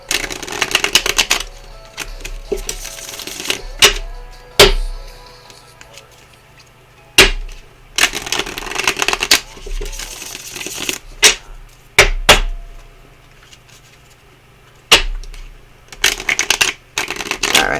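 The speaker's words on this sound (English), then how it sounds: "the Knight of Rods stuck to the deck while I was shuffling" A deck of tarot cards is shuffled close up in repeated loud bursts of crisp riffling and slapping, separated by short quiet pauses.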